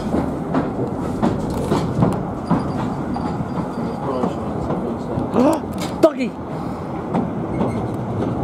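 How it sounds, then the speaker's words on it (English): A small diesel locomotive rumbles with a steady engine drone and rhythmic rail clatter, close by, while people talk over it. "There's a little diesel."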